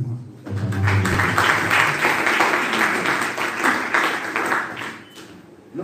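An audience applauding to welcome a professor at a book presentation and signing, a full sustained round of clapping that swells quickly, holds steady, then tapers off near the end.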